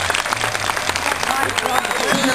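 Audience applause at a Mexican charreada horse-riding show during an escaramuza display, a steady broadband patter of clapping running throughout with music and a voice mixed in.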